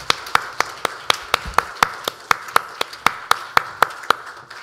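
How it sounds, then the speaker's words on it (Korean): A church congregation claps in unison during a Sunday worship service, a steady, even beat of about four sharp claps per second held for several seconds with no talking over it. "하나님께 영광의 박수를 올려드리겠습니다"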